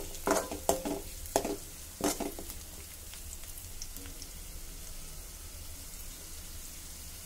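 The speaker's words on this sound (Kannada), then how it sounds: "ಎರಡನ್ನು ಎಲ್ಲ ಚೆನ್ನಾಗಿ ಮಿಕ್ಸ್ ಮಾಡಿ ಒಂಚೂರು ಫ್ರೈ ಮಾಡ್ಕೊಳ್ಳಿ." Onion, carrot and capsicum fry and are stirred in a pan: a run of sharp scraping and clinking stirs in the first two seconds, then a steady soft sizzle alone, fairly quiet and close.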